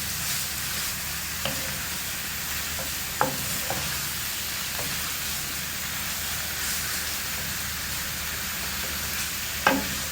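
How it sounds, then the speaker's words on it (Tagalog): Chicken strips and sliced carrots being stirred in a pan, a steady soft sizzle throughout with a few sharp utensil scrapes and taps against the pan. "Pero dahil pakakaba yung hiwa ng aking chicken, so ganon din ang ginawa ko sa carrots guys. Ayan, syempre haluin natin yan."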